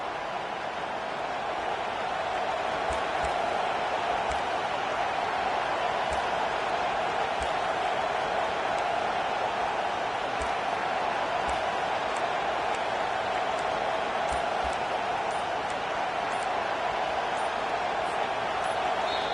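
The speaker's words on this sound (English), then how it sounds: "Decibels rising as the crowd gets behind this defense on 3rd down" Steady, dense roar of a stadium crowd at an American football game on third down, a constant wash of cheering noise with faint scattered claps throughout.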